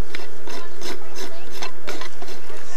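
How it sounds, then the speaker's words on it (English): A hand rasp files wood in quick, rhythmic back-and-forth strokes, about seven or eight rough scraping passes, loud and close with no talking. "I'm not real handy with that file or rasp."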